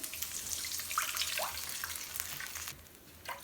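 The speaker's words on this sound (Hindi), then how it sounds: "इसके अंदर मैं शामिल कर दूंगी 2 कप पानी" Water is poured into a pan of sizzling green chili paste, producing a broad splashing hiss with faint bubbling that settles and eases off toward the end.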